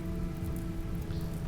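Rain in RimWorld pours steadily as a close, even patter of drops on surfaces, unbroken throughout with a low hum underneath and no speech.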